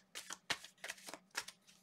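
Tarot cards riffled and shuffled by hand in several short, crisp bursts about half a second apart, close and quiet with no talking.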